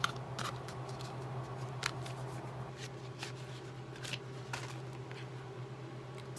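Cardboard packaging of a pressed powder eyeshadow palette being opened, heard as faint, scattered papery rustles and small sharp taps over a quiet, steady background hum.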